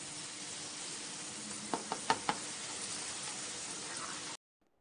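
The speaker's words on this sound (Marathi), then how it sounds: "कढीपत्त्याची फोडणी दिली आणि चांगला तडतड असा आवाज आल्यानंतर" Curry leaves and cumin-mustard seeds in hot oil in a kadhai give a steady, quiet hiss. A short cluster of four sharp crackles stands out near the middle before the sound cuts off abruptly. No voices are heard.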